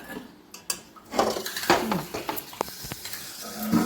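A kadai being shifted aside on a home stove after frying paneer, giving a few close metallic scrapes and knocks of pot against burner in a short burst, with light kitchen clatter around it.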